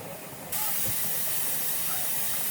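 Steam hissing steadily from the vent of a pressure canner holding chili, a loud broad continuous hiss that jumps up in level early on and then holds steady, close and alone.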